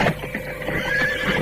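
A horse neighs in a loud, close whinny, with hoof clip-clop and movement underneath, heard alone without talking.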